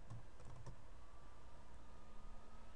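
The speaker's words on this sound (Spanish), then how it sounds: "yo escribo CL Rivera" Soft, quick keystrokes on a computer keyboard as a name is typed into a chat search in Microsoft Teams, a short cluster of light clicks at the start followed by faint, quiet room tone.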